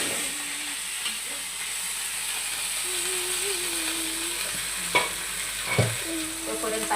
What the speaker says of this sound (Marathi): आता आपल्याला फ्लॉवर पण परतून घ्यायची बरं का